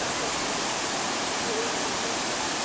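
The Ouzoud cascades in Morocco roar as a steady, dense wash of falling water, loud and unbroken throughout with no distinct voices.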